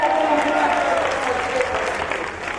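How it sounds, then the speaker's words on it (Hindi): An audience at a ghazal performance claps loudly and steadily, a dense, close burst of applause that holds for a few seconds without pause. "तो जरा जोरदार तालियां सीवान वाली बजाइए।"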